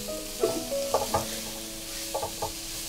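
Holy basil leaves and chicken breast being stir-fried in a pan with a little liquid, giving a steady soft sizzle broken by a few sharp scraping stirs of a utensil against the pan.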